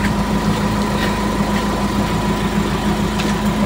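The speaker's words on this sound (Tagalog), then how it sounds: "Patayin nyo muna yung makina." A Ford Ranger engine idles in a steady, even drone with a low rumble and constant vibration, close and unbroken throughout.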